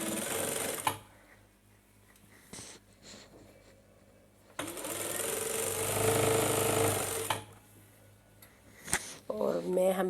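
A sewing machine stitches trouser fabric in two loud bursts, a short run near the start and a longer steady whir in the middle. Quiet pauses with small handling noises and clicks separate them, and a little speech follows.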